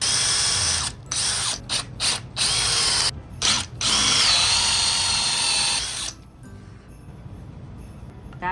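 A power drill bores a hole in a wooden candle piece, loud whining bursts broken by short pauses, then a sustained run of drilling before it stops, leaving quieter tool handling.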